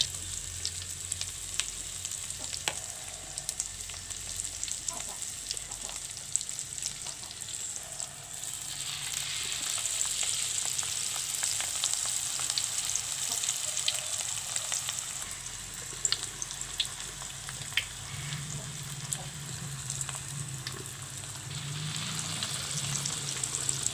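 Vegetable leaves such as spinach, mustard greens, cassava and water spinach fry in hot oil in a small wok for chips, giving a continuous crackling sizzle that swells louder midway, with occasional stirring scrapes.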